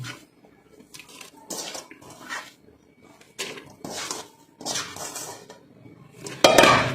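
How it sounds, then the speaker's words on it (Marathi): Boiled potatoes being mashed in a pot for pav bhaji, a series of close, irregular metallic scrapes and clanks with short pauses, ending in a louder clatter. "छान असं हे स्मॅश करून घ्यायचं आहे व हा कुस्करलेला बटाटा पण यामध्ये घालून घ्यायचा आहे"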